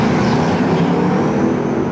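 Small go-kart engines run at an evening racetrack, a steady, loud, dense motor drone that holds throughout with no talking.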